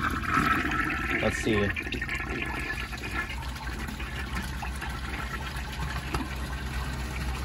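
A 1955 Eljer Duplex toilet flushes with a gush of water, then the tank refills with a steady hissing trickle, while someone speaks briefly nearby.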